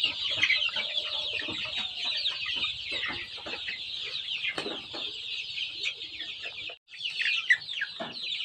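Native chickens cluck and chatter continuously at close range while pecking at and running off with fresh greens, a busy overlapping flock sound with a few sharper squawks.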